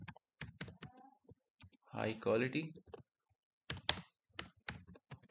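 Keys click rapidly on a computer keyboard as a prompt is typed, a close run of sharp taps with a brief pause while a person speaks over the middle.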